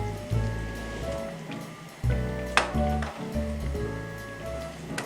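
Chana dal gosht, a thick lentil and meat mixture, is stirred in a cooking pot, giving repeated wet sloshing and scraping strokes in a few strong bursts over steady background music.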